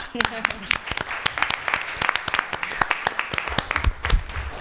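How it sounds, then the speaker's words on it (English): Scattered hand claps from a small audience at an Emeryville city council meeting, crisp separate slaps in an uneven rhythm across the whole stretch, with faint voices underneath. "And those folks need an applause."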